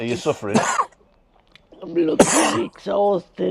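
A single sharp sneeze bursts out between stretches of casual conversation, close and loud, with people chatting before and after it.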